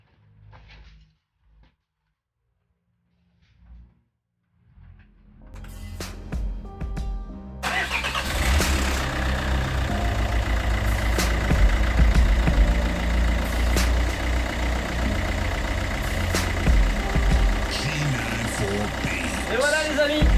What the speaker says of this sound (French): Là maintenant, on va faire la première mise en route.